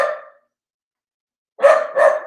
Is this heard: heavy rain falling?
no